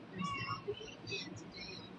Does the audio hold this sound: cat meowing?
yes